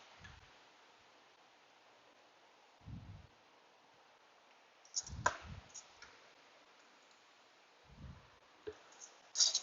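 A hose quick-connect fitting on the water outlet of a 2012 Jeep Compass 2.0 L clicks a few times, sharp close clicks spaced several seconds apart in a quiet setting.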